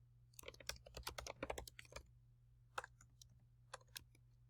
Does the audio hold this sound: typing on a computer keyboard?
yes